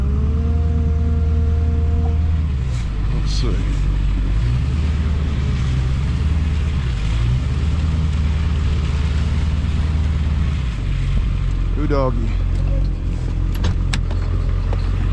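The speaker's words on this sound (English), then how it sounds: "as I get in the truck and back away" A farm truck engine runs steadily as it backs away from cattle at a shipping pen, a loud continuous low rumble throughout with brief speech near the end.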